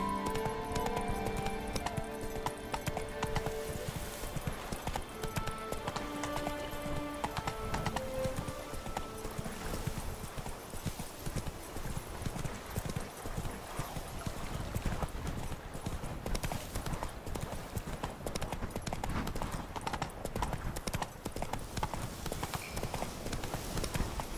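Geralt's horse Roach gallops in The Witcher 3, a fast, continuous clip-clop of hooves over a layered game score, with a brief whinny-like tone and no talk.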